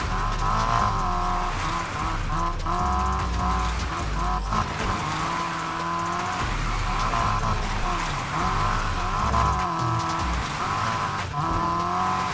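Nissan Silvia S15 drifting in the racing game Need for Speed Heat, with a loud sustained engine roar and shifting revs plus tire squeal from sliding, continuous throughout and without talk.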